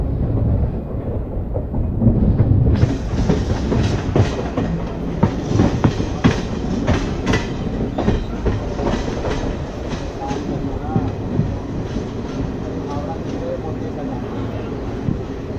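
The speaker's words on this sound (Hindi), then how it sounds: "कुरुक्षेत्र जंक्शन से भी जो गाड़ी जो है वो चल रही है।" An Intercity Express train departs Kurukshetra Junction, heard from on board: a steady rumbling roll with rhythmic clickety-clack of wheels over rail joints, loud and continuous throughout.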